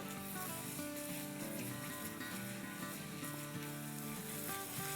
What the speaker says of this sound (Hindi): तो बस दही के साथ 1 मिनट भून लेंगे।